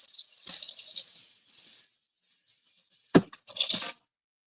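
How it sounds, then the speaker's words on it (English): Water runs from a tap into a sink while a wig is rinsed, hissing for a couple of seconds, then falls quiet before a sharp knock and a brief splashing burst. "Let's rinse this big boy right here."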